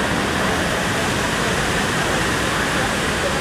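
Kawasan Falls waterfall roars as a loud, dense, unbroken wash of falling water, steady and close throughout with no other sound standing out.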